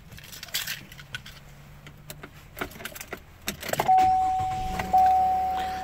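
A 2017 GMC Canyon crew cab pickup truck starts up from inside the cab, with a few clicks and rustles before the engine catches and settles into a steady, fairly loud idle.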